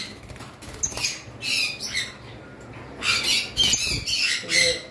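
High-mutation lovebirds squawk and flutter in a cage on a bird farm, sending out repeated sharp, chirpy bursts close by.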